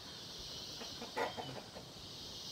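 Chickens cluck softly in the distance, a few short calls over a quiet, hissy background.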